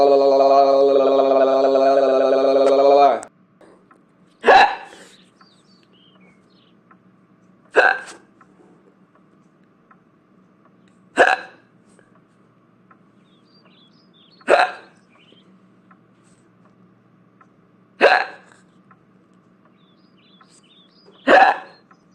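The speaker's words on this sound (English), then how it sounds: "I got the hiccups." Six sharp hiccups come at a regular interval of about three seconds, loud and close, after a sustained tonal buzz opens the sequence; the surroundings are otherwise quiet.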